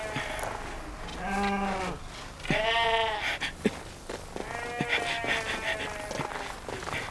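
Sheep bleat in a flock as a wolf attack is discussed, giving three or four drawn-out wavering calls, fairly close and clear, with faint shuffling in between.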